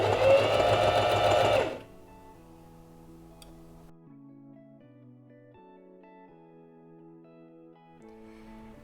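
A sewing machine stitches the lining edges of a crochet bikini, a quick mechanical whir up close for about two seconds before it stops, leaving faint background tones.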